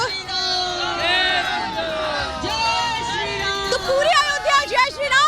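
A dense crowd of pilgrims gathered in Ayodhya fills the air with overlapping voices, shouts and whoops, a lively close hubbub with no single speaker standing out.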